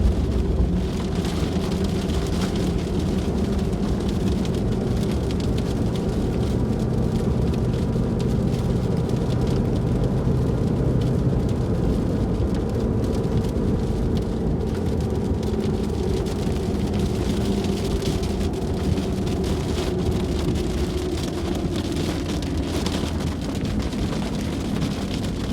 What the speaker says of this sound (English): So torrential rains, lots of lightning, and lots of wind.